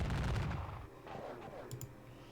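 Gunfire from the Civil War strategy game Chickamauga: a burst of rapid, crackling musket shots up front, then scattered fainter reports and echoes.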